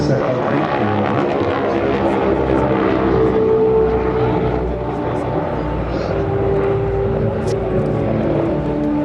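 A Lockheed Super Constellation piston-engine propliner takes off at the Le Bourget airshow, its engines giving a loud, steady, close roar with droning tones throughout.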